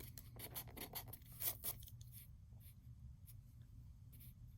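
A line is erased on a board with a few quick, faint rubbing strokes close by, followed by softer scattered scratches and quiet room noise.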